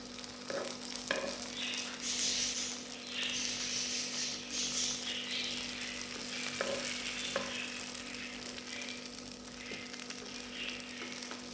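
Bourek filling sizzles and fries steadily in oil as it is stirred, a continuous crackling hiss with occasional soft scrapes and clicks from the stirring, close and moderately loud throughout.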